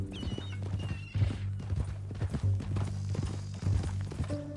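Horse hooves clip-clopping at a walk in the video game Red Dead Redemption II, a steady near rhythm of soft thuds under a low ambient drone, with a brief whinny-like snort.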